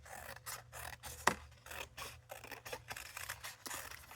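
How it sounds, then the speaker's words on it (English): Scissors snip through book pages in a quick, uneven run of crisp cuts, close and quiet, with no voices. "I'm just going to take a quick cut"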